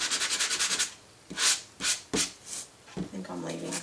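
Sandpaper rubs on a soft surface in short strokes, a rapid run of scratchy rasps followed by separate, spaced scrubs, close and moderately quiet. A voice speaks briefly near the end.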